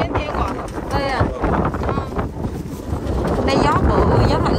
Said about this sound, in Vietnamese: Đây gió bự, gió mạnh quá trời luôn